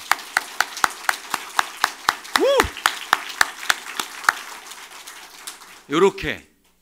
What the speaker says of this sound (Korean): 여러분, 한번 우리 박수 쳐볼까요?